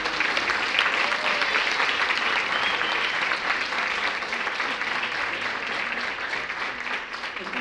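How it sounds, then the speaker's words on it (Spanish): A church congregation breaks into loud, sustained applause, a dense wash of clapping that holds steady for several seconds and fades slightly toward the end. "Dale un aplauso fuerte al Señor."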